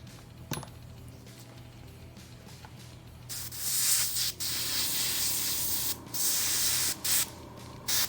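Paint hisses through a spray tool onto a miniature figure, a tiny click first, then several loud sustained bursts with brief gaps between them.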